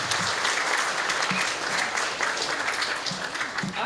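Audience applause at a regional sports awards ceremony, dense continuous clapping from a large crowd in a hall, steady and fairly loud throughout the short stretch.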